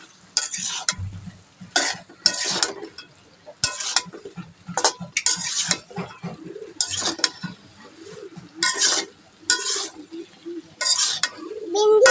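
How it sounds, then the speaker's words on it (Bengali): Spice paste fried and stirred in a pan for a hilsa and potato curry, with repeated loud spoon scrapes and clatter in uneven bursts over a low sizzle. "নেড়ে চেড়ে কষানো মশলার সাথে মিশিয়ে নেবো"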